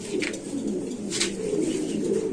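Pigeons coo at a pigeon farm, soft throaty calls repeating at close range over a low steady background, with no talk.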